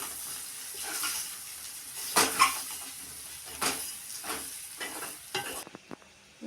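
Aloo tomato curry is stirred in a pan, giving soft scraping strokes over a quiet, steady sizzle, with a few louder scrapes and clinks spaced irregularly and fairly close.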